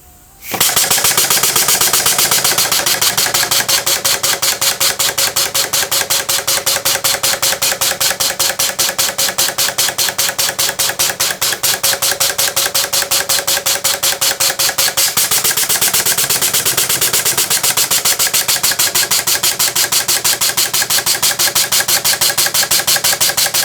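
A small model steam engine driven by compressed air runs continuously, giving a loud, rapid, even chuffing beat close to the listener that keeps going with no talk and a slight change in tone partway through.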